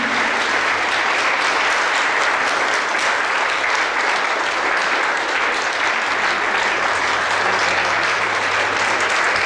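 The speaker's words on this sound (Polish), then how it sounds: "Wielkie brawa dla Pani Anny." Steady, dense applause from a large audience at a Polish ball, loud and sustained throughout with no pauses or speech over it.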